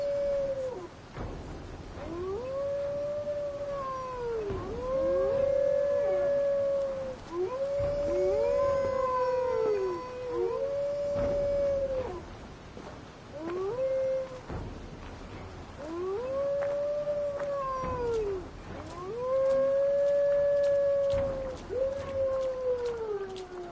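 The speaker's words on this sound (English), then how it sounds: "all you hear is just howling of wolves" Wolves howling in the Assassin's Creed Valhalla video game, several long rising and falling howls overlapping one after another, loud and clear with no talk.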